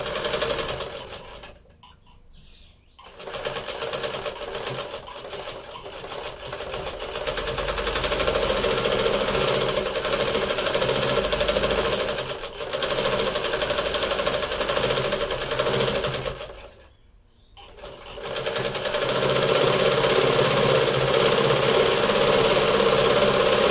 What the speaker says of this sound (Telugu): నేనైతే వీటిని డబుల్ స్టిచ్ చేస్తున్నాను చూడండి.